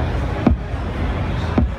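An 808-style kick drum run through SSL-style processing gives two deep, punchy thumps about a second apart, each with a fast pitch drop, heard close over a constant low hum.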